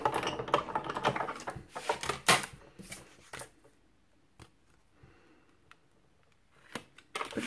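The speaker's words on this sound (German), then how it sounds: "Dazu nehme ich meine Stanzmaschine." A punch and embossing machine used on paper crafting gives sharp mechanical clacks and clicks, denser and louder at first, then a few isolated close taps after a quieter stretch.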